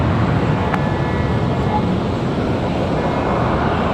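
An Air Canada airliner arriving from Montreal at Raleigh-Durham airport produces a loud, continuous broadband jet roar that stays steady throughout, like an aircraft passing close by.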